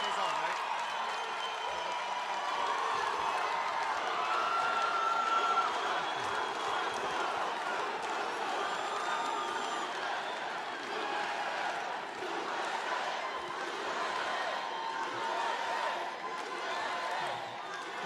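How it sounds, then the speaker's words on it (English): A large, rowdy political rally crowd in Tucson for Donald Trump cheers and applauds in a sustained, dense roar, with raised voices mixed through the noise. "This is a very rambunctious crowd."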